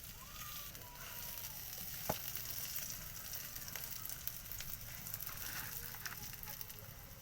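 Aloo paratha fries in hot oil in a heated pan, giving a steady, even broadband sizzle with a few faint clicks and no voices.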